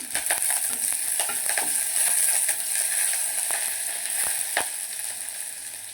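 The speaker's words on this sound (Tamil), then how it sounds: "சேர்த்துட்டு கிண்டி விட்டுக்குவோம்" Ridge gourd with curry leaves is stirred as it fries in a pan, with a continuous bright sizzle and scattered spoon scrapes and knocks, close and fairly loud, without speech.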